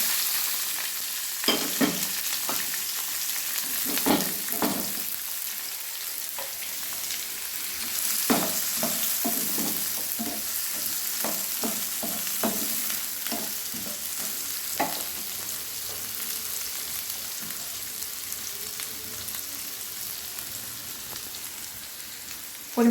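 Mixed vegetables fry in ghee and white oil with whole garam masala, a continuous close sizzle broken by repeated scraping and clattering stirs of a utensil against the pan.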